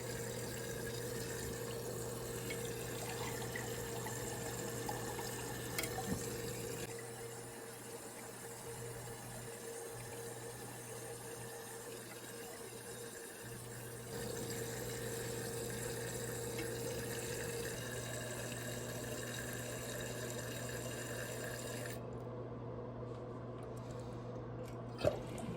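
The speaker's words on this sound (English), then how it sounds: "So I'll let the tank refill and flush it again." A toilet tank refills with water after a flush during a flapper valve repair, a long steady hiss and gurgle of running water that continues evenly, then cuts off near the end.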